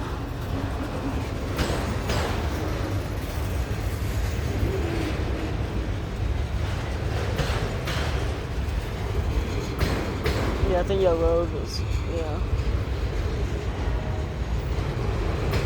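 A very long freight train rolls past at Wartrace, Tennessee, a steady low rumble and clatter heard from trackside, while people talk over it nearby.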